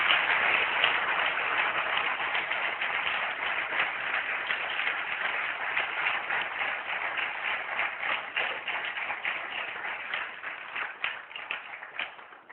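A church congregation claps in a long, steady round of applause that fills the room, dense and even, thinning out slightly toward the end, with no speech over it.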